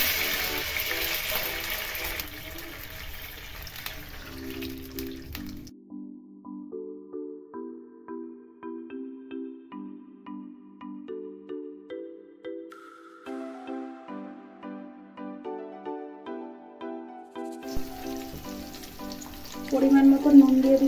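Water hits a hot pan of tempering with curry leaves and green chillies for dhokla syrup, giving a loud, close sizzling rush at the start and again at the end, with tonal music filling the middle.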